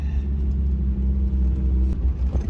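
Mazda Miata engine idling with its exhaust fallen off, a loud, raw, uneven rumbling drone with a brief throttle blip near the end, close and alone.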